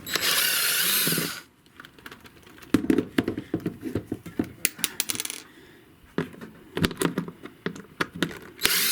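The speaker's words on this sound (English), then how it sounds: "So I'll just undo those two screws." A power drill briefly whirs, then loosens the Phillips/square screws on an RV water heater's on-off switch during a Suburban Nautilus IW60 install, with clicks, rattles and metallic taps close by.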